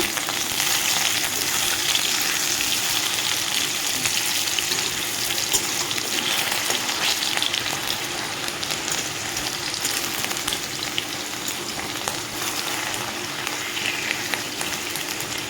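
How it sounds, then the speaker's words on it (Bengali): Tomato and potatoes fry in a pan with a loud, dense, steady sizzle and crackle, punctuated by soft stirring scrapes, close up and without any talking. "টমেটোটা একটু হালকা ভেজে নেব জল করে ভেজে নেব আলু ছেড়ে নেব"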